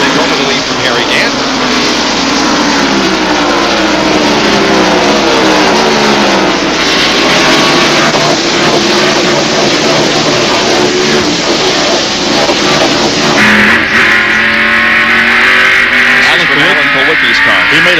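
NASCAR race cars at North Wilkesboro in 1991 roar past continuously, a loud, dense engine drone with shifting pitch sweeps as cars pass, under steady commentary from a broadcast announcer throughout.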